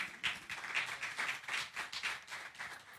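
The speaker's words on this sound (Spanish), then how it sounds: "Bienvenida, un aplauso para Laura." Applause from a church congregation welcoming a guest, steady clapping throughout at moderate loudness, with no voices over it.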